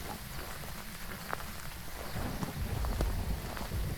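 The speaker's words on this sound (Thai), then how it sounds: "ฟ้าร้อง" Steady rain hisses through the Phasmophobia game ambience, and a low rumble of thunder swells in the second half; the whole scene stays fairly quiet and distant.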